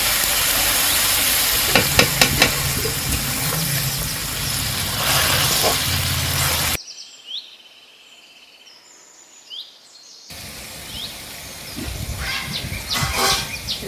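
Water poured into a pan of whole yard-long beans frying in a village kitchen, sending up a loud, close, steady sizzle and hiss that cuts off abruptly, then resumes noisily after a quiet gap.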